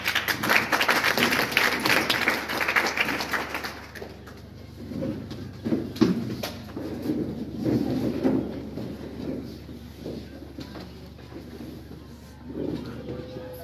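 An audience applauds at a Republic Day celebration hosted by an educational society, with a dense burst of clapping for the first few seconds. The clapping then fades into quieter, scattered room sounds.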